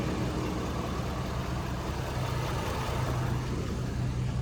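A Ford 6.7 Powerstroke diesel truck idling with a steady low rumble, close and even, with no talk over it.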